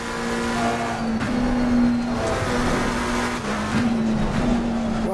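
Race car engine in the video game Assetto Corsa Competizione, a loud sustained whine holding pitch with brief shift breaks and revs, steady and close with no voices.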